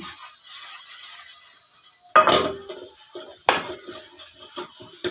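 Dishes being washed by hand, with close clanks and clinks of pots, plates and cutlery in a few sharp bursts over a quiet background, no talking.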